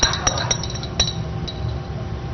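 Spoon clinking repeatedly against a glass while sugar is stirred into a liquid, a quick series of bright close taps in the first second, then fading into soft swirling.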